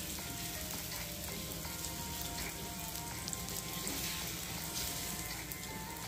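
Potato and gram flour batter cooking on a hot griddle, a steady dense sizzle and crackle of frying that fills the clip evenly and close up, with no one speaking.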